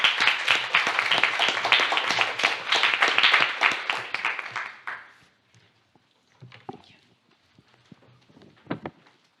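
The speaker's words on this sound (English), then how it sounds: "A big applause then for Team 16." Dense applause from a crowd at the futurEU 2024 competition semi-final fills the first five seconds, then fades into scattered claps, footsteps and shuffling noises.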